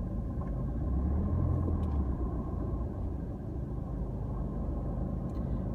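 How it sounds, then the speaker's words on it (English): Busy Saturday road traffic circles a theatre roundabout, a continuous low rumble of passing cars and engines at moderate distance, swelling slightly early on, then settling into a steady drone. "Lots of traffic around."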